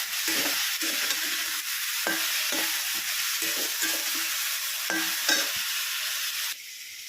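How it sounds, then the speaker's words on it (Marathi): Steady oil sizzle with repeated scraping stirs of potato and fenugreek in a pan, close and continuous, no voices. "तेलावर छान असं परतून घेणार आहोत बटाटा आणि मेथी"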